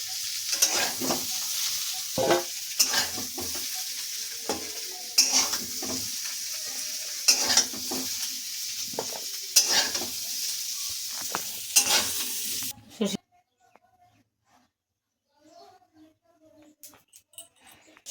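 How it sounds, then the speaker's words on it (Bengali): Unripe jackfruit fries in a pan, a continuous close sizzle punctuated by regular stirring scrapes and clinks, before the sound cuts off into near silence for the last few seconds. "এঁচড় ভাজা হয়ে গেছে, এবার তুলে নিচ্ছি"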